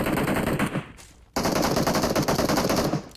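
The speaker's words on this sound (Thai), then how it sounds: "บอกเลยว่ายิงกันสนั่นเลยแถวเนี้ย" Rapid automatic gunfire in the PUBG Mobile battle royale game, two dense bursts of loud close shots separated by a brief pause, with no voices.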